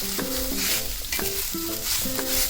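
Onion frying until brown for a dry Bombay duck curry, a steady close sizzle with several stirring scrapes, over music in the background.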